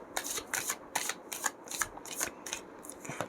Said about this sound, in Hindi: कार्ड्स अच्छे से शफल कर लेते हैं पहले